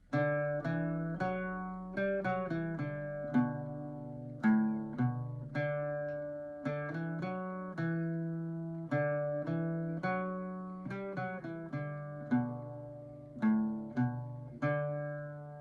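Irish bouzouki picking a simple single-string melody of the traditional tune Jack Hall, with clear plucked notes in a steady rhythm, close and moderately loud, ringing alone without voices.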